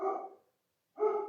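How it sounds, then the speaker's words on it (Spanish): A small female dog barks in two short bursts separated by a pause of silence, fairly close and moderately loud, with no one talking over it. "La estoy viendo ahí ladrar."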